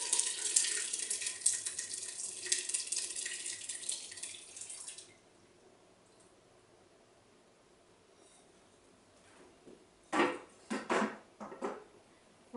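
A corn syrup mixture is poured through cheesecloth into a large pot, a close, hissing liquid splash lasting about five seconds, then quiet, then a few short louder sloshes and drips.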